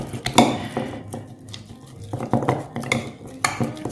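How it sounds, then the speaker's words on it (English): A spoon stirs thick fermenting batter paste in a bowl, giving close, irregular scrapes and knocks against the bowl over a few seconds. "Now, we just want to stir this up and try to get some air in there."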